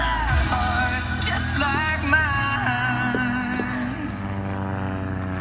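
Interstate Cadet propeller plane flying an airshow act, its steady engine drone shifting pitch continuously as it maneuvers, loud and sustained over distant crowd noise.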